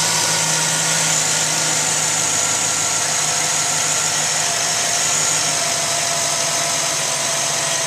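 A 2008 Chevrolet Silverado 1500 crew cab LT Z71 4WD truck engine idles steadily at close range with an even, continuous hum and no talking; no distinct start-up crank is heard.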